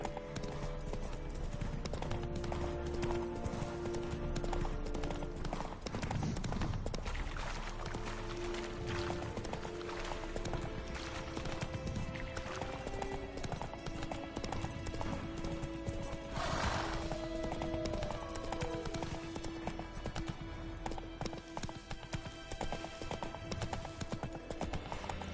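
Roach the horse gallops in The Witcher 3, a continuous rhythmic clip-clop of hooves joined by a whinny partway through, over game music and ambience.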